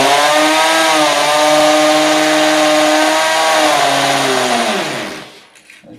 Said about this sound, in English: You will need a masonry fitting like that, a masonry bit, on hammer mode.